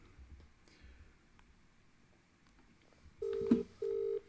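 A phone's DTMF keypad tones from an outgoing call to a school's automated student absence line: two clear steady beeps near the end, with the second following a short gap, over a quiet low background.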